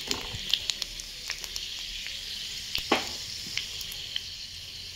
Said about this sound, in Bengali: কড়াইতে তেল দিয়ে পাঁচফোড়ন দিয়ে দিলাম